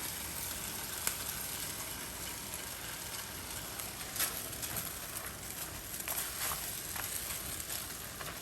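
Beef strips and bell peppers fry in a hot pan for a Chinese takeout-style pepper steak, giving a steady close crackling sizzle with a few sharper pops and stirring clicks, no talking.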